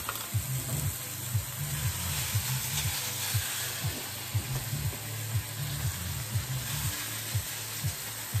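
Pork sizzles and fries in a pan with a steady, fairly quiet hiss, broken by repeated soft clicks and scrapes of stirring.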